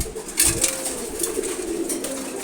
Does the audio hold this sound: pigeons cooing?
yes